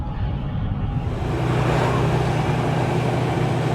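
A truck towing a trailer pulls out through a gate, its engine giving a steady, close, continuous rumble with road noise that swells slightly as it gets rolling, with no voices.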